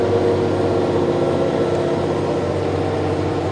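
Steady low engine drone of an Arbos P240 tractor driving forward, a continuous loud hum with even rumble and no voices throughout.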